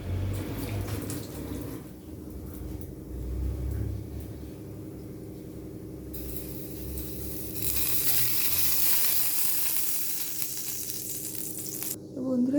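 Ghee heating and sizzling in a hot pan, a steady hissing crackle that runs throughout at moderate level with a few soft kitchen knocks, growing brighter toward the end.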